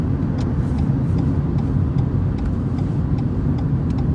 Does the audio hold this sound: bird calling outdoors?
no